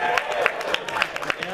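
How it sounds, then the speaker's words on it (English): Convention panel audience at MAGFest claps in scattered bursts, sharp hand claps popping over a murmuring room while a voice speaks through it. "That gets claps."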